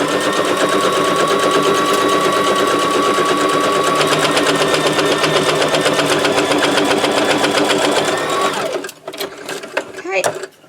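A sewing machine stitches through journal pages in a fast, steady, loud run for about nine seconds, then stops, leaving a few faint clicks and handling noises.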